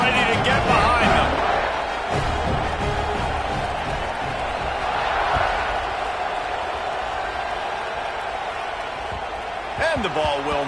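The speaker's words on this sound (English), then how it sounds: "They're set to kick it off, and this crowd now ready to get behind them." A football stadium crowd roars at kickoff of a Volunteers game, a broad sustained wash of cheering that swells and stays loud throughout while a commentator talks over it.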